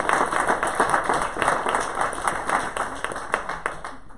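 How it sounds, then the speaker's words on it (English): Audience applause at an Oregon public forum on race, bias and the criminal justice system, a dense, steady patter of many hands clapping together throughout, fairly close and loud. "I'm going to ask that you applaud once again"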